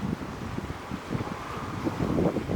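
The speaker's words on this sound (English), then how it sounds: "Hold on, the wind." Outdoor wind buffeting the microphone during an interview, a low rumbling roar with irregular gusts that swells louder toward the end, with no speech over it.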